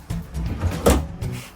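An RV bedroom drawer slides open or shut at close range, a short soft rumble with a dull knock near the end, heard alone in a quiet room.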